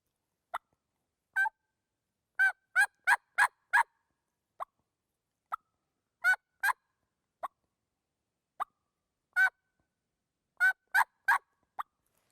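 Plain turkey yelps imitated on a turkey call, given as short separate bursts of one to several notes with gaps between, clear and close with no talking.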